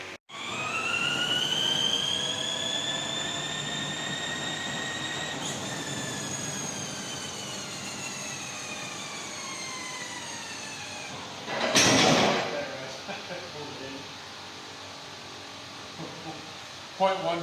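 A supercharged Range Rover runs on a chassis dyno, with a sustained engine and supercharger whine rising steadily in pitch, a brief loud burst near the end, then settling to a lower hum.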